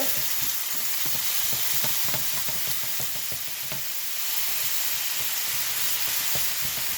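Meat for a New York chop cheese sandwich sizzling loudly in a hot pan while being chopped up, a steady frying hiss with repeated clacking spatula chops throughout, no talking.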